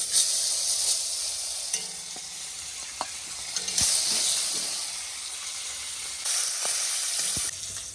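Fish coated in turmeric and salt sizzles steadily in hot oil, a close, continuous frying hiss with a few soft clicks and stirring sounds scattered through it.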